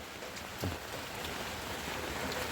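Steady rain falls over flooded rice fields, a constant hiss of dense drops at moderate level with one brief low thump partway through.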